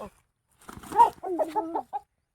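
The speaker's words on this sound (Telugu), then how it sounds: "పెద్ద నాటుకోడి ఇదిగో" A large country chicken clucking close by in a village setting, a few short uneven bursts of clucks separated by brief quiet gaps.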